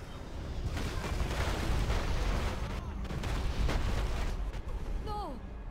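Fantasy video game battle where ships fire artillery on a defense crystal: rolling, booming cannon blasts and explosions follow one another in a dense, loud barrage, with shouting voices over the bombardment.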